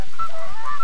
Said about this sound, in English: Shortening days and frosty nights bring more geese from the north.